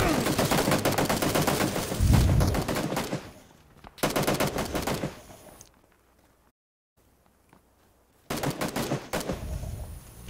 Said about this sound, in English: You see the guy shooting behind.